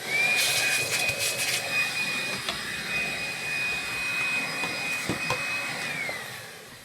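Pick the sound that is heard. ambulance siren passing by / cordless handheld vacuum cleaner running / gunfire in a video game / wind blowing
cordless handheld vacuum cleaner running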